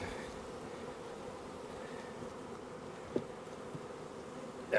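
Honey bees from an open hive full of nurse bees buzz in a steady, dense drone close by, with a couple of brief knocks near the end.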